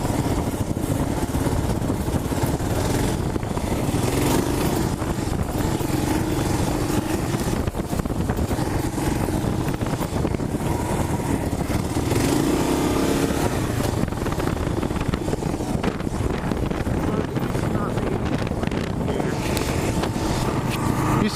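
KLR motorcycle engine droning steadily while riding, a continuous close rumble mixed with heavy wind buffeting, with no break throughout.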